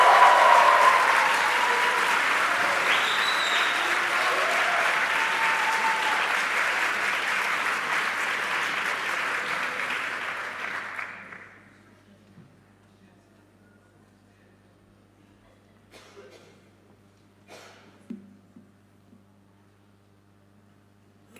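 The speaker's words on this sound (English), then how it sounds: "Please give her a warm round of applause." A graduation hall audience gives a student speaker sustained, loud applause for about ten seconds before it cuts off abruptly, leaving near silence with a few faint handling noises.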